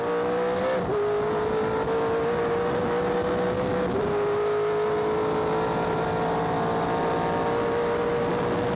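V8-engined sports sedan race cars accelerate hard down a back straight in an Australian Sports Sedan Championship race, a loud, steady high-revving drone with rising pitch and a brief gear change near the start.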